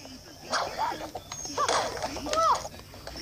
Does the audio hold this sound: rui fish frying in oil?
no